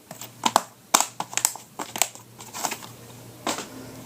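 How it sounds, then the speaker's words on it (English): Small plastic tabs on a DVD case are pried open, giving a quick series of sharp snaps and crinkly clicks at close range over a faint hum, with no speech. "So let me open these little tabs."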